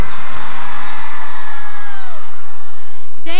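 Crowd screaming and cheering at a Brazilian music awards show, a loud continuous high-pitched roar of shrieking fans that fades toward the end.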